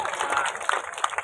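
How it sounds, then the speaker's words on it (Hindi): Audience at a Rajasthan Kabir Yatra cultural event by Fateh Sagar gives a brief burst of close, dense clapping, fairly loud and short-lived. "उनके लिए भी ज़ोरदार ताली और लाभांश के लिए भी"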